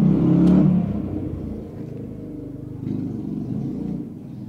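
Vehicle engines revving and racing through narrow lanes outside, a low rumbling roar that swells at the start and rises again later, moderately distant.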